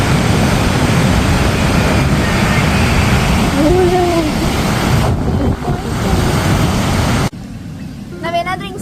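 Ocean waves wash onto a beach in a steady, loud broadband roar that carries on throughout, with a voice briefly heard over the surf and a quieter stretch near the end.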